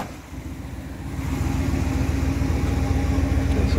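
A 1994 Dodge Ram 250 eight-passenger van idling on a cold day, a low throbbing engine hum that swells a little after the first second and then holds steady and close, with no talking.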